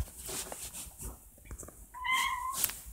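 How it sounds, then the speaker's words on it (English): A pet cat gives a short, clear meow, tonal and close, amid quiet room noise. "That's my kitty, y'all. Meow, meow."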